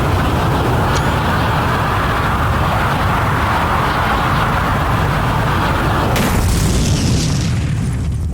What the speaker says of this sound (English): Holy crap, that was a big explosion.